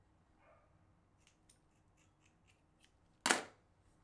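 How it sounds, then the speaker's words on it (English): Scissors snip once through long crochet hair, a crisp, close single cut standing out against near silence and faint small rustles. "We're gonna cut her in half"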